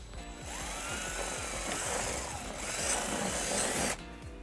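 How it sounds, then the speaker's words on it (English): A steady drill with a 3/16-inch bit whines through a 2018 Kia Forte bumper for about four seconds, grinding and rasping with a brief rise in pitch before stopping abruptly. "using a 3/16 drill bit, we're going to drill our first hole"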